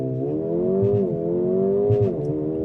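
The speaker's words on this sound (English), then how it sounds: "I can engage launch control, or what they call race start, by holding in both paddles with my foot firmly on the brake, pinning the throttle" A 2024 Mercedes-AMG CLA35 pulling hard off a launch-control start, its engine note climbing steadily and then stepping down briefly at a gearshift before rising again, close and loud with no talk.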